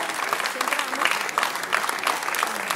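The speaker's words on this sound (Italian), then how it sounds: "ancora un applauso, i primi che si sono esibiti" Audience applause after a choir performance at a choral gathering in Monte Castello di Vibio, a steady dense clapping from a crowd lasting a few seconds.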